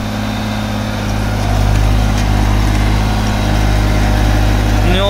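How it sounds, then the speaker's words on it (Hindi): A New Holland 3630 Special Edition tractor's diesel engine runs at a steady idle, a close, continuous low drone whose level rises slightly partway through, with no talking. "तो भाई चलो तो मैंने दिखावा है भाई कौन सा गेयर में और कितने RPM पर चल रहा है ये ट्रैक्टर।"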